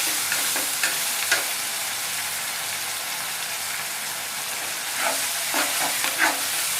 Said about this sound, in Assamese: দিয়াৰ পিছত মই মিঠা মাছখিনি ভাজি ল'ম এনেকৈ